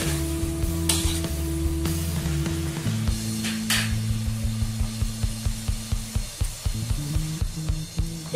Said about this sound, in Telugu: ఆనియన్స్ అన్ని గోల్డెన్ బ్రౌన్ లోకి వచ్చినట్లుగా ఫ్రై చేసుకోవాలి.